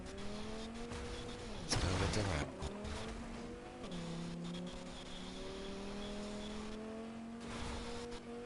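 A car in Fortnite drives and revs, its engine pitch climbing and falling through several gear-like sweeps, with a loud burst partway through and someone talking briefly over it.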